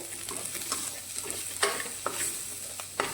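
Bitter gourd curry with red chili powder being stirred in a frying pan: a steady soft sizzle with a spoon scraping through the vegetables in several sharp strokes, close and alone.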